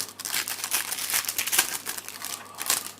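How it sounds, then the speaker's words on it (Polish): Foil sachets of T-Mobile Ekstraklasa 2013 football stickers are torn open and crinkled close up, a steady run of ripping and rustling packets without any talk. "otworzymy tyle saszetek, ile po prostu zdążymy"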